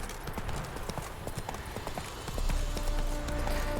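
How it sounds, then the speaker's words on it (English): Horse hooves clip-clop steadily in the video game Witcher 3, a brisk even rhythm of close hoofbeats over ambient game sound. "Come on, Roach. Slow now. Whoa."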